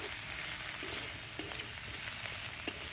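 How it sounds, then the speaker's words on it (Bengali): Shrimp frying lightly in a pan for a sour green hog plum curry, a steady soft sizzle with a few faint clinks of stirring, no voices. "কড়া করে ভাজবো না, হালকা করে ভেজে নেব।"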